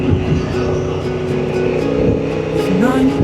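A Honda Transalp 750 motorcycle with 92 hp cruises along a scenic road, its engine humming steadily with a rising note near the end, loud and continuous beneath a voice.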